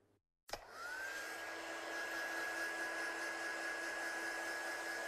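A heat tool switches on abruptly after a brief silence and blows steadily to dry stamped ink on card, producing a constant close whir with a thin, high tonal whine and no talking.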